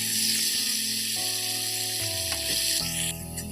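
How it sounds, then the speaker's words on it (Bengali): Steady, close sizzling of ground spices frying in hot oil, with a few faint stirring clinks and no voices. "গুঁড়ো মশলাগুলো দিয়ে দিলাম দেখো"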